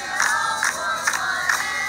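A crowd at a game cheers in rhythmic repeated shouts, four or five loud chant bursts in a steady beat.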